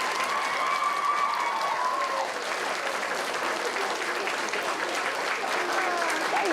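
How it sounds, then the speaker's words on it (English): Studio audience at a children's television show clapping in a warm, sustained round of applause, with a presenter's voice briefly audible early on. "Let's give her all a big round of applause."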